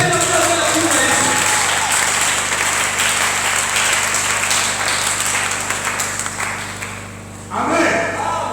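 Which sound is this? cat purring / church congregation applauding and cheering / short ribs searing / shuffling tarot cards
church congregation applauding and cheering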